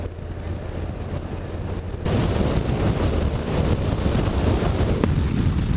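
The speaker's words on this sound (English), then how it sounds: "Well, folks, very windy" Strong coastal wind in the Scottish Highlands roars and buffets the microphone, growing louder partway through and staying as a dense, continuous rush.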